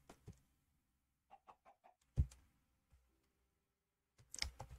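A chicken in a modded Minecraft world gives several short, soft clucks in a quick cluster, followed by a louder thump and a noisy burst at the end.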